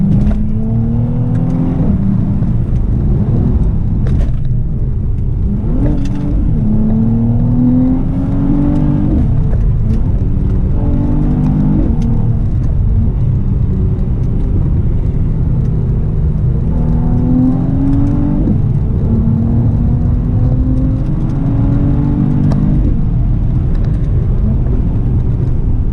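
Mercedes C43 in sport mode driving hard on back roads, loud close engine rumble with repeated rising revs and gear shifts across the whole stretch, no talking.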